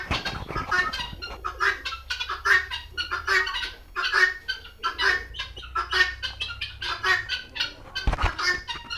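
Hens on a chicken farm cluck and squawk in a busy, overlapping chorus of short repeated calls, close and fairly loud, with no talk.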